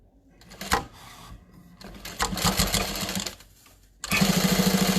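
Sewing machine stitching a tote bag in short bursts, fast mechanical whirring runs broken by brief pauses, ending in a louder sustained stretch of stitching.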